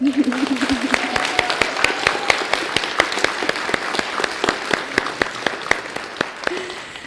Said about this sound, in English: Can we please all give a big round of applause for Artem?